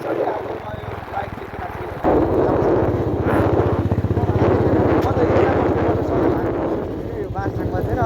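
A motorcycle rumbles along a newly built hill road in Nepal, its steady engine drone rising louder after the first couple of seconds, while someone talks over it throughout.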